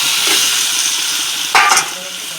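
Mutton pieces drop into a hot pan already sizzling with onion and garlic paste, a steady close frying hiss with a sharp burst of crackle as the meat goes in near the end, no talking.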